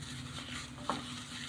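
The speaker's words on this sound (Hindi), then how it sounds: "इन सब मसालों को हम मिक्स करेंगे।" Spice paste for Lahori tawa fish being stirred with a little water, soft wet swishing and a single brief utensil tap against the bowl, quiet and close with no talking.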